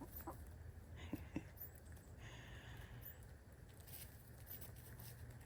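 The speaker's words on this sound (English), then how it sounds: "we just have the sound of some happy chickens" Chickens cluck softly in a yard, scattered low calls under a steady background hiss, faint and somewhat distant, with a couple of sharp knocks early on.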